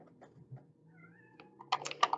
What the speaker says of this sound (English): Here, one of my cats down there throwing a fit.